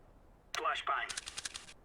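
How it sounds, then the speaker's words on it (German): A flashbang grenade goes off in the video game CS:GO: two sharp, loud bursts land close together, then a string of bright, rapid, pulsing ringing tones follows before cutting off. "Flashbang."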